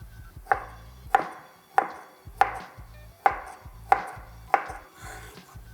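A knife chops through carrot into medium cubes on a board for potato salad, giving eight sharp, evenly spaced knocks close by with no talking.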